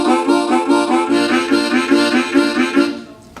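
Harmonica played with deep abdominal breathing support, a sustained reedy chordal tone pulsing in a steady rhythmic pattern, close and fairly loud, with no talking over it before it drops off at the end.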